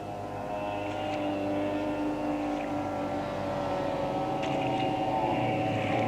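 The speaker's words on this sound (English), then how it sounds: "These three boats dominating the race." Steady roar of powerful racing powerboat engines running together at high revs during a race, loud and continuous with a slight rise in intensity, no voices.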